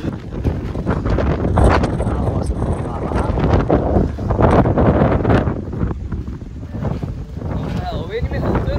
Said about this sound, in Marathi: हवा तर मजबूत हवा सुटली.